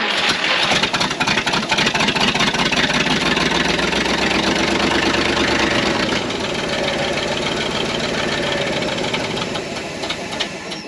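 A junk 1952 Kenworth Pacific bus engine turns over and settles into a loud, knocking idle, rough and continuous close by with no talking, fading slightly toward the end.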